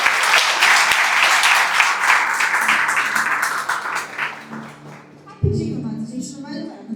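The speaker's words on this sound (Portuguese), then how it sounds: "Aplauda ao Senhor Jesus" Church congregation applause, loud and dense clapping from many people that gradually thins and fades, after which a voice speaks up close.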